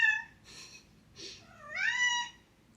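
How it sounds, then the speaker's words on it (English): A cat meows several times in short, high calls, the last one longer and rising, with quiet background and no voices. "I hope you can hear her meowing."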